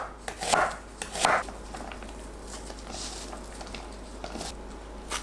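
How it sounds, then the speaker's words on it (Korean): Onion being sliced into strips with a knife on a board, two sharp chops near the start followed by lighter, quicker cuts and faint taps, close and alone. "양파도 채 썰어 준비합니다."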